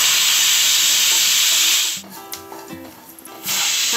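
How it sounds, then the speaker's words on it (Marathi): A pressure cooker lets off a loud, steady hiss of escaping steam for about two seconds; it drops away to quiet clatter and then resumes. "आता वाटप पण झाला आणि कुकराची शिट्टी पण झाली, 5 शिट्टे झाले."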